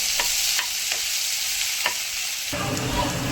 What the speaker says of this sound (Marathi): फुललेलं आहे त्यामध्ये मिरचीचा पेस्ट घातला मस्त त्याला असं परतून घेत आहे